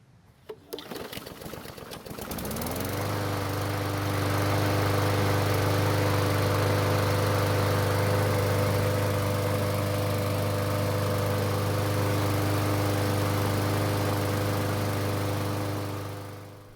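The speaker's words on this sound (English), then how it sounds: "While this mower is running, I'm going to talk about how I'm running this test." A gasoline lawn mower engine, still warm, is pulled into life with a few rough starting bursts, then settles into a steady, loud, even drone that runs on before fading out at the end.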